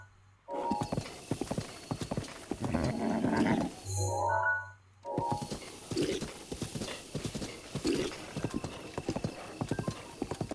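A horse's hooves clip-clop in The Legend of Zelda: Breath of the Wild, a rapid rhythmic trot of close game sound effects, briefly broken by a short pause and a neigh-like cry before the galloping resumes.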